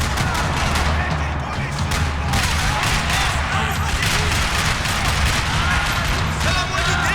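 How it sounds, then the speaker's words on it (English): Dense gunfire in a parking lot in the video game Max Payne 3: continuous rattling automatic bursts and shots overlapping throughout, loud and close, with rumbling low-end and no pause. "Another parking lot rattling with gunfire."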